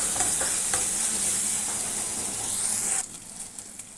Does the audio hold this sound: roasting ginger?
yes